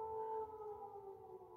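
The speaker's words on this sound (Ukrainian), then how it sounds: "Ось так звучить сирена. Чуєте, да?" Air raid siren wailing over Cherkasy, Ukraine, heard from indoors as a faint, steady distant tone that holds a sustained pitch without pause.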